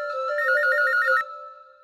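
A telephone rings in an indoor domestic scene, its warbling electronic tone pulsing in a steady rapid trill for about a second before cutting off, leaving a faint lingering hum.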